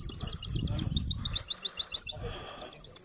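Songbirds trilling and chirping at a silvestrismo birdsong contest, a steady bright chatter of repeated calls with low background murmur and handling noise beneath, mostly unbroken across the clip.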